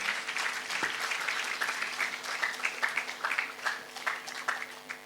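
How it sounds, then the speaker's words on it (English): An audience claps steadily at a festival valedictory ceremony, the Bhopal Literature & Art Festival 2025, a dense patter of many hands lasting throughout at a moderate, even level with small swells. "A round of applause for them,"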